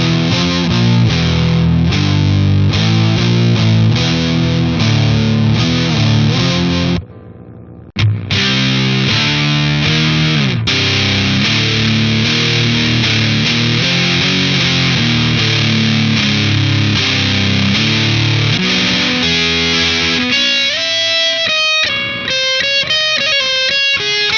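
Heavily distorted electric guitar through a Big Muff distortion model on a Headrush MX5, playing sustained fuzzy chords, loud and saturated, with a brief cut-out partway and a choppier riff near the end.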